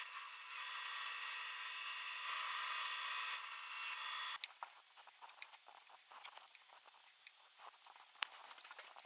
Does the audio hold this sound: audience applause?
no